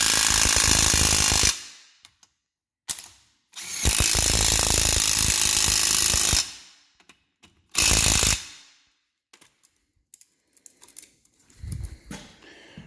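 A Matco 3/8 impact wrench hammers bolts tight in loud, close bursts: a long burst, a short blip, another long burst and a final short burst, then quiet clicks and handling noises.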